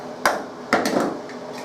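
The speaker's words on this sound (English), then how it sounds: "add a can of diced tomatoes, which I need to open with my can opener" A can opener punctures and works around a can of diced tomatoes, giving a few sharp metallic clicks and snaps close up, separated by quieter grinding.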